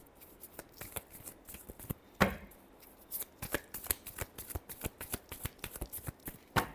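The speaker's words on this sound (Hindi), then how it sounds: "Last shuffle." Tarot cards being shuffled, a dense run of crisp riffling snaps and flicks at close range, with one louder bridging burst partway through and no voices.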